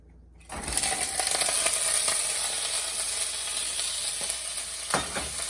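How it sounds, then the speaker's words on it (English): Beef hits a hot pan with a little oil and bursts into a loud, steady sizzle, close by, with occasional scraping clicks of stirring and no talking. "Here goes the beef into a hot pan with just a little bit of oil."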